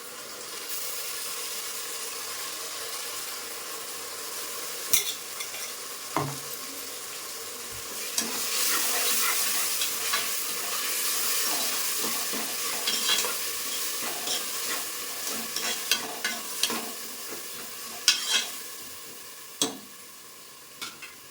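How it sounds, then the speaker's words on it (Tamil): Onion sautéing in a pan with ginger-garlic masala paste and rock salt, a continuous close sizzle broken by repeated scraping stirs and spoon knocks, with no voices. "இது நல்லா பச்சை வாசனை போகிற மாதிரி வதக்கிட்டோம்"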